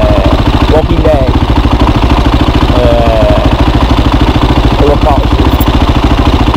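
Husqvarna 510 SMR motorcycle engine while riding, a loud, steady, rapid thumping beat held close throughout with brief higher whines and a voice speaking over it.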